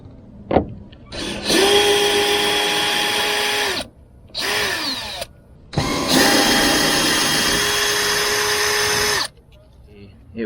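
An electric power tool whirs loudly in two long bursts with a short one between, each winding up then cutting off, as it drives bolts out of a sailboat dodger during repair work, with quiet gaps around it.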